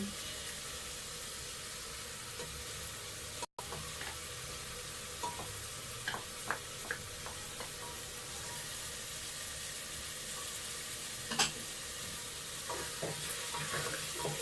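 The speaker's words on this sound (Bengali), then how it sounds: "মশলা কষিয়ে দিতে হবে, যতক্ষণ না মশলাটা কষাচ্ছে ততক্ষণ পর্যন্ত নেড়ে যেতে হবে।" Spices cook with beef and pumpkin in a pan over medium heat, giving a soft continuous sizzle with intermittent scraping stirs, some sharper clinks standing out near the end.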